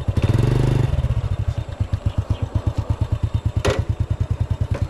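A motorcycle engine idles with a steady, loud chugging pulse, opening with a brief heavier rev before settling into rapid even putters.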